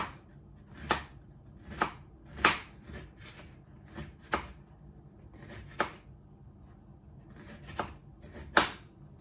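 Thin slices of bitter gourd (ampalaya) cut on a board with a knife, about a dozen sharp separate chops at an uneven, unhurried pace, close and fairly quiet, with no talking.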